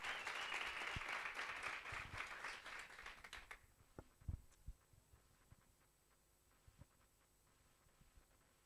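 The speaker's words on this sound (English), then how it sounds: "One more time, a round of applause." An audience at a Kasi business workshop pitching challenge in Tlhabane applauds for about three seconds, then the clapping thins to a few scattered claps over a faint room hum.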